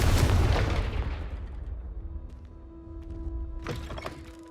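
Confringo fire spell cast in the Hogwarts Legacy video game: a loud, close blast at the start with a long decaying rumble, then a quieter sustained tone and a brief burst near the end.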